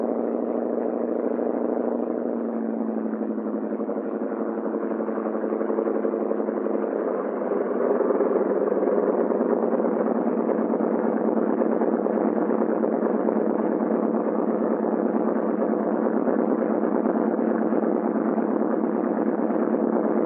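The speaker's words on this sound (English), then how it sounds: "we've got to start the other engine before we can taxi" A C-47 aircraft's engine starts with a steady, droning hum holding at an even level throughout, rising slightly partway through, with no voices.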